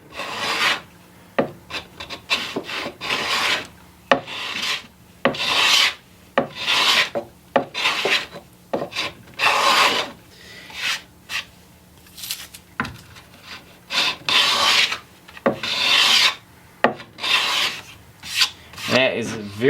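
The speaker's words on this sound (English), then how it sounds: "here I've got a skewed rabbet plane because it makes it a lot easier to cut with the across the grain" A skewed rabbet plane cuts across the grain of a red cedar box, making steady rasping strokes that repeat in a quick, even rhythm. Each pass is close and clear, with no talking.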